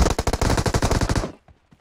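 Rapid sustained burst of M249 machine gun fire in PUBG Mobile, loud and close with an even rhythm of shots, then cutting off abruptly into near silence with a couple of faint clicks.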